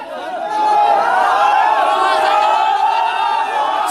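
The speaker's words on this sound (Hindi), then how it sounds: "लोग स्टेशन के बाहर खड़े होकर नारेबाजी करने लगे।" Large crowd shouting slogans outside a railway station, many voices yelling together in a loud, sustained roar that swells in after a brief quieter start and stays dense to the end.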